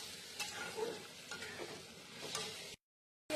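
Spice paste sautéed in hot oil for a jackfruit curry, with close, busy sizzling and a few sharp spoon scrapes, then a sudden drop into silence.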